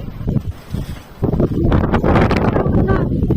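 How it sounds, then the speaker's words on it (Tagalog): Strong wind gusts outside in snowy, freezing weather, a loud rushing roar that builds and stays steady after a quieter start. "Ang lakas ng hangin sa labas, guys."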